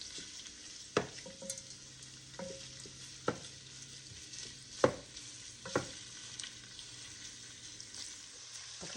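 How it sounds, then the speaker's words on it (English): Italian sausage frying in a pan while being broken into crumbles, a soft steady sizzle punctuated by about half a dozen sharp scraping knocks of a utensil, close and moderately quiet. "put in my sausage. And as it's cooking, I'm going to break it up"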